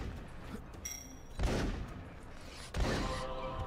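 Two heavy blunderbuss blasts go off about a second apart in the video game Tom Sparks and the Quakes of Ruin, each a loud booming shot with a short decaying tail over quieter game ambience.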